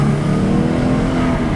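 A 2011 Ford Mustang accelerates gently, its engine rising into a loud, steady, close-up drone with no talking over it.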